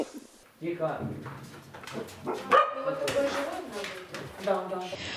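Several dogs bark and yip in short bursts nearby at a shelter for stray animals, mixed with people talking throughout.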